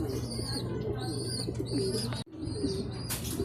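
Young pigeons chirp and coo close by while being fed, a busy run of overlapping squeaky calls with a brief pause and a soft rustle near the end.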